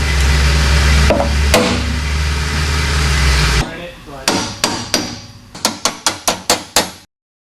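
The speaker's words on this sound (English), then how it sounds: "Big hammer?" Heavy blows from a big hammer strike car mounting brackets in a garage, a 3rd gen Camaro's exhaust brackets; a loud engine-like rumble gives way to a series of sharp metallic whacks, accelerating into quick successive strikes near the end.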